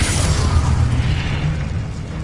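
Confringo blasting spell exploding in the video game Hogwarts Legacy, a loud, deep boom with a rumbling, crackling tail that holds strong for about two seconds.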